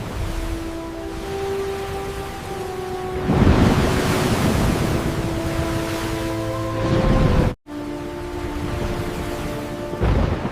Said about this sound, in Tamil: அலைகள் அதை அலைக்கழித்தன.